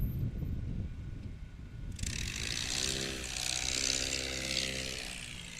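A STOL airplane touching down at a STOL competition at an airpark in Pocola, Oklahoma, its propeller engine droning steadily and then rising into a louder, whirring roar at fairly close range.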